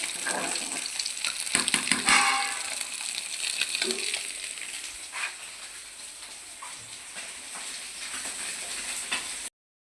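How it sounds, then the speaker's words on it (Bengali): Bitter gourd frying in a pan with spices, a steady close sizzle with some stirring scrapes early on that settles into a softer hiss before cutting off. "একটুখানি উচ্ছে আর ক্রিম ভাজবো"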